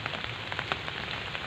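Steady rain falling outdoors, a dense continuous patter with small scattered drop hits, fairly quiet and uniform with no voices.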